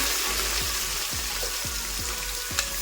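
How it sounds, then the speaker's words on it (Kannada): Chopped onions frying in ghee and oil in a pan, a steady close sizzle with a regular series of low knocking strokes, likely a spoon stirring, about one every half second. "3 ಮೀಡಿಯಂ ಸೈಜ್ ಈರುಳ್ಳಿ ಕಟ್ ಮಾಡ್ಕೊಂಡಿದ್ದೀನಿ, ಅದನ್ನು ಹಾಕೋತಾ ಇದ್ದೀನಿ."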